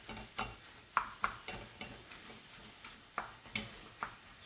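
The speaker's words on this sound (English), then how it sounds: "And I'm mixing all the vegetables in there." Vegetables stirred in a hot pan while cooking spaghetti bolognese, with a steady low sizzle and a run of sharp utensil scrapes and clinks against the pan at an uneven rhythm, close up and without talking.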